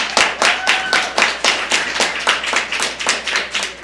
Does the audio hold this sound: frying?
no